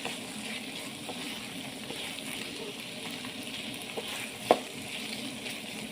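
Beef liver with coriander frying in a pan, a steady soft sizzle and bubbling throughout with one brief clink of utensil near the end, no talking.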